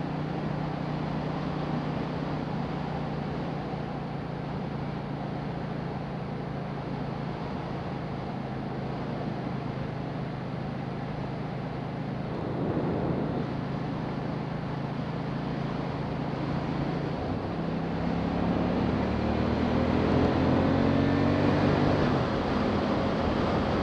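A 2018 KTM 790 Duke naked motorcycle ridden through city streets: a steady engine drone under road and wind rush, with the engine note climbing louder near the end.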